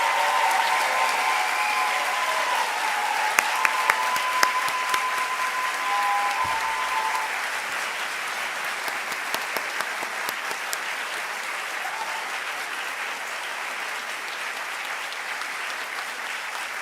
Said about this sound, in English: please join me in a round of applause to congratulate the class of 2027